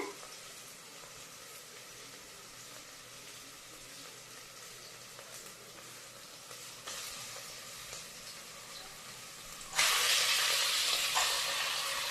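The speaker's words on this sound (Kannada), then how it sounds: "ನಾವು ಎಣ್ಣೆಯಲ್ಲಿ ಹಾಕಿ ಸ್ವಲ್ಪ ಫ್ರೈ ಹಿಡ್ಕೋಬೇಕು" Chicken frying in oil in a village-style chicken curry, a continuous close hiss and sizzle that swells sharply louder near the end as more is stirred in, with no talking.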